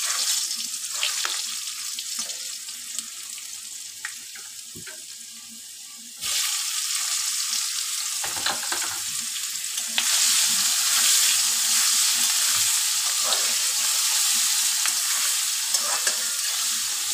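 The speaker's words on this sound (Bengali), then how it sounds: "এই যে আলু পেঁয়াজটা তো লাল লাল করে ভাজা হয়ে গেছে।" Potatoes and onions fry in hot oil in a pan, a loud, continuous sizzle that grows stronger partway through, with occasional stirring scrapes up close and no talking.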